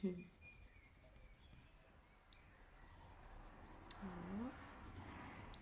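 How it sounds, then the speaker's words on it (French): Soft, steady scratching of a colored pencil across paper while coloring hair, close and quiet, with a faint hiss in the background. "On entend le crayon qui s'excite sur le papier."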